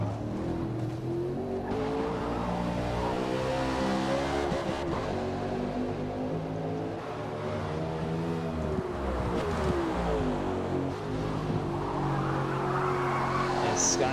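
RC race car on a Daytona track sliding through a turn, loud high-pitched motor whine rising and falling with tires skidding and squealing, steady and close throughout with a commentator's voice faintly underneath.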